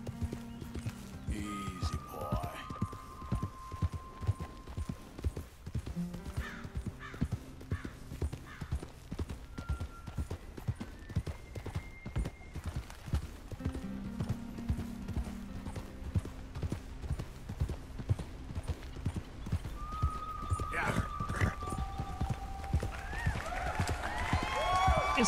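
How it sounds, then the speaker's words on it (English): Steady hoofbeats clop along throughout, with a spooked horse in Red Dead Redemption 2 whinnying a few times over the top, fairly close and moderately loud. "Horse is a little spooked."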